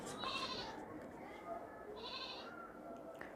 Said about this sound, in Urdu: بیک گراؤنڈ کے اندر بکری کی آواز آ رہی ہے